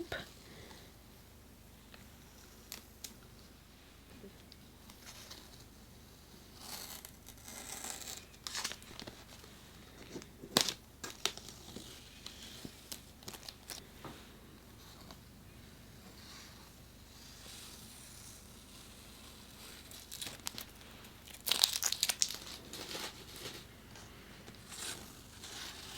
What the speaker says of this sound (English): So let's peel off the tape.